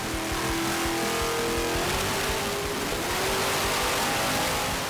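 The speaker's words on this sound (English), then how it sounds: "When James gets in there and puts the pedal to the metal, that's when you're going to start seeing how the car reacts and how the motor takes it." A race car engine revs hard at full throttle, a loud continuous roar with rising and shifting pitch, close and alone without talk.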